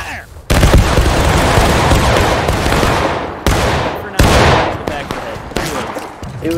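Musket volleys ring out in a War of Rights battle, several loud, ragged bursts of massed black-powder fire cracking close by, each trailing into rumble, with players talking over the shooting.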